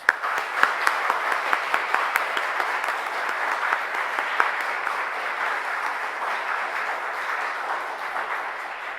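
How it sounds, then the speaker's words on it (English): A church congregation applauds its search committee, sustained clapping from many people with sharp individual claps standing out at the start, settling into an even, moderately distant patter that continues throughout. "So please join me in giving the search committee a round of applause."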